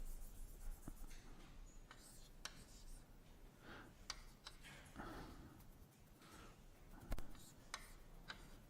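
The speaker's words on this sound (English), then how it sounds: "maybe it's better to write it like this" Chalk or marker writing on a board during a string theory lecture, a series of faint scratchy strokes and taps scattered through a quiet room with low background hum.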